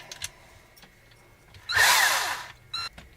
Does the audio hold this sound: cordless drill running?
yes